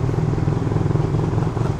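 Motorcycle engines, including an R150 on a Pitsbike ECU V4 Superpro tune, idle and rumble in a steady, close, loud drone with a pulsing low throb and no talking.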